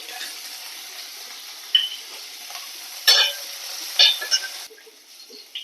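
Green chillies frying in hot oil in a pan give a soft, close sizzle with a few sharper crackles and stirring scrapes.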